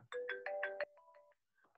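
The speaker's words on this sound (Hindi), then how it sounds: "किसका फोन है" A phone ringtone plays nearby indoors, a short melodic run of about five bright tones and then softer fading notes, clear and alone with no talking.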